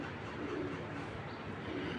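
A male racing pigeon of Johnson line coos softly at close range, its low, throaty murmur rolling steadily under a faint background hum.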